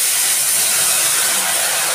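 Loud, steady hiss of water hitting hot oil with turmeric in a pan, a broad continuous sizzle without a break.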